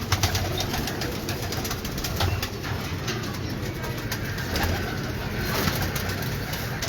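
Breeder pigeons on a Lahore rooftop coo softly and steadily over a busy, noisy background, with occasional faint flutters among the birds.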